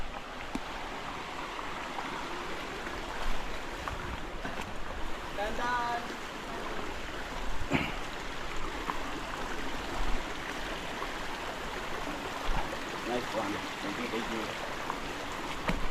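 River water rushes and burbles steadily nearby, a constant broad wash with occasional splashes and faint voices in the background.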